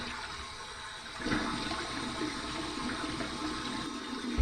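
Warm water rinse after a shave, with running tap water splashing steadily and continuously at close range, getting a bit louder partway through.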